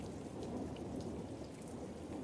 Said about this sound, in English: It's raining cats and dogs, Kurt.